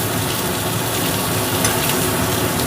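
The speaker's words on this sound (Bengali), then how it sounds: "এবারে এটা তো আমাকে একটু ভেজে নিতেই হবে।" Small gurjali fish, seasoned with salt and turmeric, frying in a wok: a steady, dense sizzle with a constant hiss and bubbling oil, close and fairly loud, heard alone.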